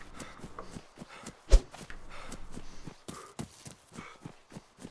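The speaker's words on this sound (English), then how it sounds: "Get back here, motherfucking cow!" Cow running in the video game DayZ, a rapid, uneven run of hoof thuds and clops close by, with one sharp heavy thump partway through and no talking.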